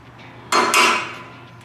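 A sheet metal lip being bent on a metal brake in a shop: one sharp metallic clank followed quickly by a second ringing clang, then a fading metallic ring, loud and close with no voices.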